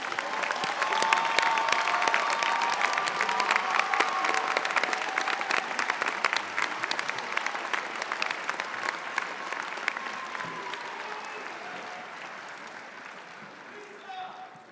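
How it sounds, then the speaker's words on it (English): A long round of applause for graduates at an Illinois State University College of Fine Arts spring commencement, many hands clapping crisply in a large hall, gradually thinning and fading over about fifteen seconds. "Let's give another round of applause for all of our graduates"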